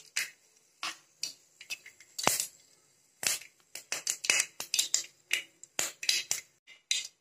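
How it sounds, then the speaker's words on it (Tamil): Sharp, irregular popping and crackling bursts, close and crisp, of mustard seeds spluttering in hot sesame oil, with brief quiet gaps between clusters. "இப்போ கடுகு நல்லா பொரிஞ்சிடுச்சு"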